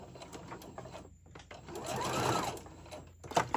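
A sewing machine back stitches over the low opening of a fabric tote bag lining, a close, steady mechanical whir that swells in the middle, with light clicks and handling noise around it.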